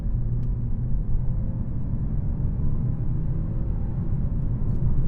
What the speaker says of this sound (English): it will sit at the top RPM just for a little bit longer than I would like before it does its simulated upshift as you're accelerating